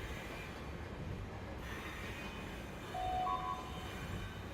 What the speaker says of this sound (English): Train's taking a very long time to reach it.